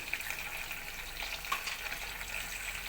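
Cumin seeds sizzle in hot oil in a kadai, a steady, soft crackling hiss with small pops scattered through it, fairly quiet and heard alone.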